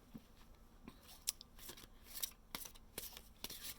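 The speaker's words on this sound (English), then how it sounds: "Okay, so I've shuffled enough." Tarot cards being shuffled in repeated crisp riffling bursts, fairly close and quiet, with soft clicking and snapping between pulses and no talking.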